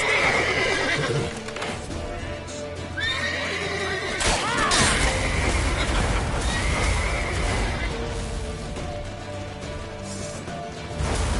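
Horse neighing and galloping hooves from the video game The Witcher 3, a loud whinny rising above steady clip-clop amid a busy, dense game soundscape with music and effects throughout.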